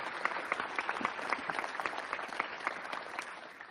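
An audience at Union Station applauds two honorees at a transit agency event, a fairly soft, steady patter of many hands with a few crisper claps, heard from a slight distance in a large reverberant hall.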